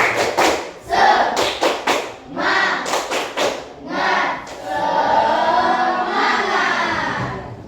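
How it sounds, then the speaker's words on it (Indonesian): Classroom children perform the tepuk semangat clapping chant, quick patterned bursts of unison claps alternating with loud group chanting, ending in a long sustained shouted cheer. "Ya, kita tepuk semangat. Tepuk semangat."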